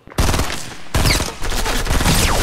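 Weapon fire in Fortnite, a loud sustained burst of rapid shots that starts abruptly, pauses for a split second, then continues in a fast rattling stream.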